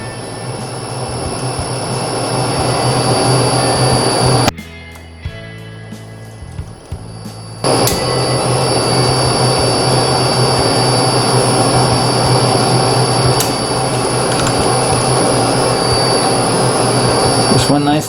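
A metal lathe takes a cut five thousandths of an inch deep, with WD-40 as cutting fluid, a loud steady machine whine and hum with a high tone, dropping briefly for a few seconds before resuming.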